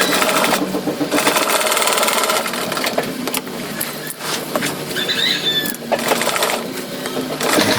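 A sewing machine stitches a repair on a pair of trousers, running in loud, steady bursts with brief pauses between them and sharp mechanical clatter throughout.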